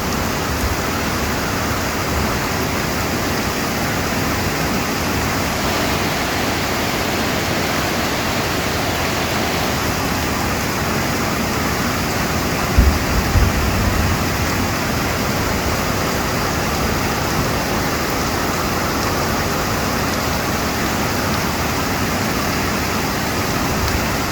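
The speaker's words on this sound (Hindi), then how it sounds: "झरने की आवाज़ भी सुन लीजिए।" A constant roaring rush of falling water from a monsoon-season waterfall, loud and unbroken, heard up close with no other sounds.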